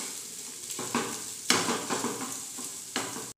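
Sliced onions and potato with salt frying in a pan over low flame, a close steady sizzle broken by several clattering stirs of a spoon against the pan.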